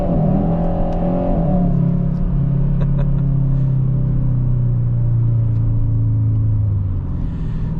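A 2025 Kia K5 GT mid-size sedan accelerates hard, its engine rumble climbing and then shifting into a long, loud, rising drone heard from inside the cabin, with no talking.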